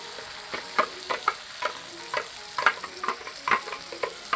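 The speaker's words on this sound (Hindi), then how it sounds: "एक 2-3 मिनट मैं इसको भूनूंगा" Onion-garlic paste for a chicken and potato curry frying in a pan, a steady sizzle broken by repeated scraping stirs at an irregular rhythm, close up with no talking.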